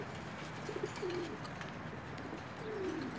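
Pakistani teddy pigeons coo softly, a few short rolling coos spaced apart against a faint hum of background noise.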